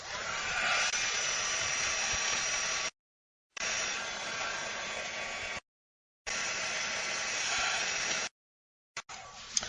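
A hair dryer blows steadily while drying a colored paper peony petal, a close, even whoosh of air that cuts in and out in several bursts with gaps of silence and no talking.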